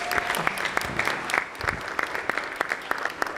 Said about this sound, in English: let's have a round of applause for all the girls